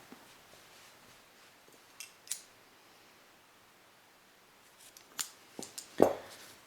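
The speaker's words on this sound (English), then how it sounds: "I'll chain 1, then I'll cut this yarn." Scissors snip through crochet yarn, a few soft, quiet clicks spread across near-silence, with the last cut slightly louder and close by.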